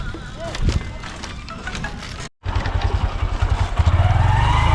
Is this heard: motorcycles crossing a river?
yes